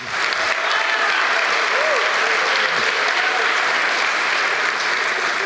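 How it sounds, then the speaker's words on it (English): Loud, dense applause from a keynote audience at an SAP developer conference, a thick continuous wall of clapping that holds steady for several seconds with no break. "You guys can clap on this one too."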